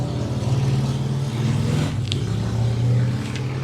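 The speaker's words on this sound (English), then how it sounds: "You guys hear that motorcycle?" A motorcycle passing by outdoors, a low engine rumble that swells and fades over a few seconds, moderately loud and heard alone.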